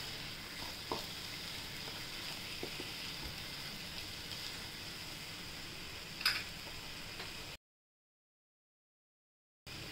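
Soft, continuous sizzle of vegetables being sautéed in a covered pan, faint and steady with an occasional stir, then a short silence near the end.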